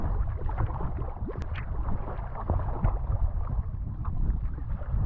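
A sea kayak is paddled across open water in Croatia, with rhythmic splashes and water swishes against the hull under steady wind noise, near and continuous.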